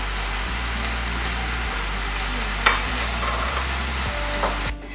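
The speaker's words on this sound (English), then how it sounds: "My meat's cooking up really nicely, and now it's time to go in with a few spices." Ground lamb frying in a pan with cumin, coriander, black pepper and salt, a steady dense sizzle with occasional soft scraping stirs, close and continuous without talk.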